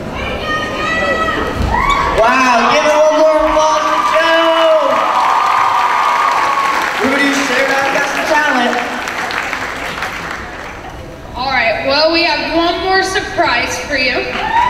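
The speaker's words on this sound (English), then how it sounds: "give it one more applause to Joe!" A school talent-show audience applauds and cheers, with loud whoops and shouting voices riding over the clapping throughout, a brief dip near the end before the noisy crowd surges again.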